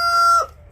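A rooster with hens clucking as they feed on a farm; a short, clear tonal call rings out for under half a second, then fades into quiet background.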